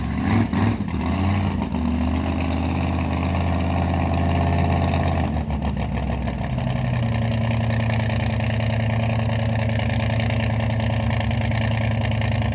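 A supercharged big-block Chevy mud truck engine runs loud and close, a deep steady rumble with a shift in pitch partway through as it settles into a lower, throbbing idle, with no voices over it.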